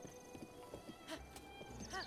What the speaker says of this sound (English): Now we'll get on our horse and we will get out of this town.